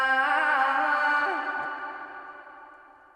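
A sustained tonal sample played back in Logic Pro X rings out and slowly decays in a long reverberant tail, alone and fading smoothly to quiet.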